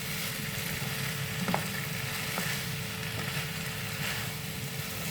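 Bottle gourd and ground pork sizzle steadily in a frying pan as a utensil stirs through them, with a few soft scraping knocks against the pan over a constant broadband hiss, close and moderately loud, no voices.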